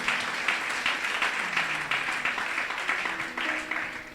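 A church congregation applauds steadily throughout, dense continuous clapping with fluctuating swells, fairly close and sustained, a few voices faintly mixed in.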